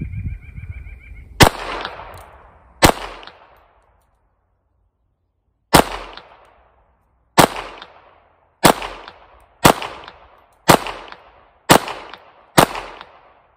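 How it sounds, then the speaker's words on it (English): A Smith & Wesson 22 A-1 pistol fires 40-grain CCI .22 rounds at an outdoor range, ten sharp close shots spaced unevenly, with a pause before a steadier string of six, each cracking and fading quickly. "Let me turn this on and we'll do some shooting."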